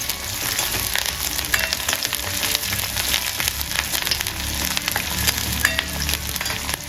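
Toor dal, small onions and crushed curry leaves fry in hot oil in a pan, giving a loud, dense, continuous sizzle with crackles and occasional stirring scrapes, no speech.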